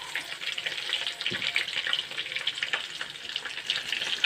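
Galunggong fish frying in hot oil, a constant close crackling sizzle with dense popping that runs without a break.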